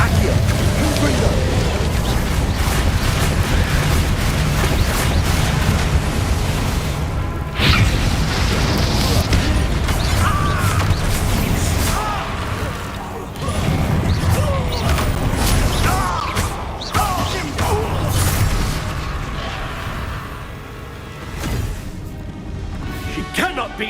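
Confringo blasting spell cast in Hogwarts Legacy, a dense game mix of booming blasts, crashes and clattering impacts layered over continuous music and effects, with sharp bursts around the middle and near the end.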